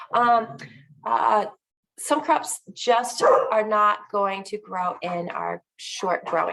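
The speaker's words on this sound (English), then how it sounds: "I apologize for my dog." A dog barks and yips briefly in a home setting, mostly overlapped by a person talking about garden crops and short growing seasons.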